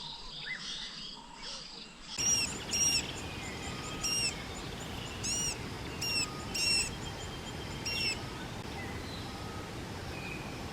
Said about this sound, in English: If you're interested in birds, then this road won't disappoint because there are so many birds along here.